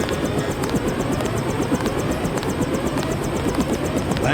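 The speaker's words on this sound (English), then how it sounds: "Take the helicopter back to base." A helicopter engine from the video game Deus Ex drones steadily with a rhythmic rotor chop, loud and continuous, with no talking.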